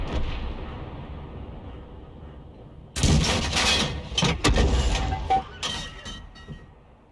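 Tank cannon fire in World of Tanks from an SU-8, a single loud, sharp blast at about three seconds followed by several quick cracking hits and rumbling shots that fade over the next few seconds.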